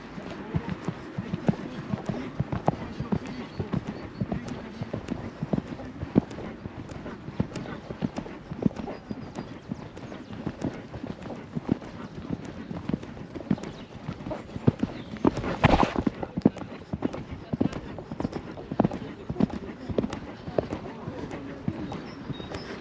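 A horse that lives outdoors moves around on dirt, its hooves clip-clopping steadily and fairly close for over twenty seconds, with occasional quiet voices in the background.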